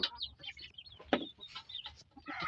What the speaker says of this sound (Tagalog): Aking mga sisiw.